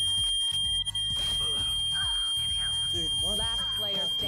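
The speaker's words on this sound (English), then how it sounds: "Fucking fire alarm." A fire alarm sounds in the background as steady high electronic tones, heard through a game-stream mix with gameplay effects, music and someone talking over it.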